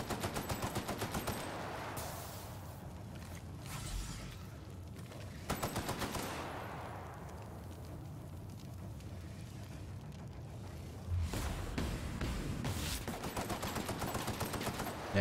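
Weapon fire from combat in the video game The Outer Worlds, set in a Mantisaur hive: several loud bursts of shots with sustained rattling between them, steady and close across the whole stretch.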